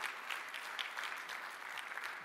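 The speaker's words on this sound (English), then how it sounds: "can we give a big round of applause to Mr. Zhang Xiaochen?" Warm, continuous applause from an audience at a startup keynote event, a dense, even patter of many hands clapping without pause.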